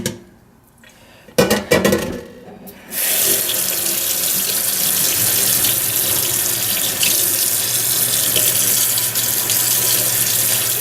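Tap water runs steadily into a sink while an antique Plumb hatchet is rinsed, starting after a few knocks and clatters and then continuing as a loud, even rush with no talking.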